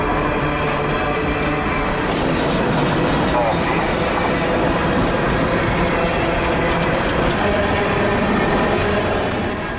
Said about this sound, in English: By the sound of those wheels on the rails, the rail grinder had apparently been here too.